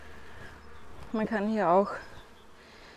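Honeybees in a Bienenkiste hive during a spring inspection give a low, steady hum that runs under a man's close speech throughout.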